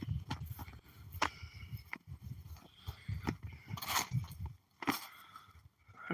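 A two-year-old Belgian draft horse moves on a farm, its hooves giving an uneven clip-clop among scattered thuds and rustles, moderately close and fairly quiet.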